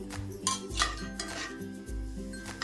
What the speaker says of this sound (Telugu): కిస్మిస్ పళ్ళు, జీడిపప్పు, బాదం పప్పు, ఖర్జూర పళ్ళు ఇవన్నీ కట్ చేసుకొని మనం కొద్దిగా వేయించుకోవాలి